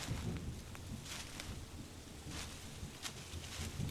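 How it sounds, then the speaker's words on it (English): A storm's wind blows steadily with a broad rushing roar, while distant thunder rumbles low and muffled in a few soft swells; no voices are heard. "Right now it's just wind and distant thunder."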